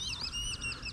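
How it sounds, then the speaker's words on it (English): Whistling ducks at a pond give a brief burst of high, thin whistled calls at moderate distance over faint background rumble. "That's the sound of those whistling ducks."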